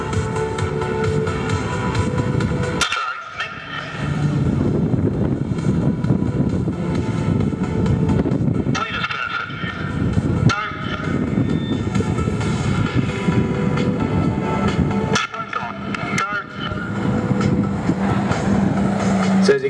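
Roulettes aerobatic display team aircraft approach at the Singapore Air Show, a loud sustained engine roar with rising and falling surges and brief dips, continuous throughout.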